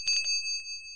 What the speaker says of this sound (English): Campanile continued to ring the bell.